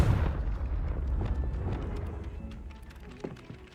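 A Confringo spell explosion in the video game Hogwarts Legacy lands as a deep, loud boom at the start, then a rumbling fiery decay that fades over a few seconds with faint scattered crackles.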